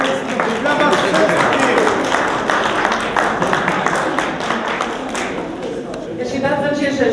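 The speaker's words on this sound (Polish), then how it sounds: "Brawa dla zwycięzców! Brawa wszystkich!" An outdoor crowd applauds the winners at a wintry memorial event in Starachowice for school patrols. The clapping is dense and sustained for about five seconds, then thins out as voices carry over it.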